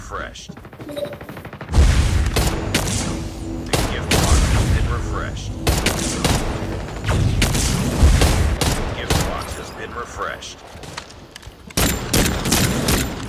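Gunshots at moving targets in a carnival shoot-out stage of a video game: a sharp string of close, loud shots and bursts in uneven clusters, with short gaps and a brief quiet start, alongside someone talking.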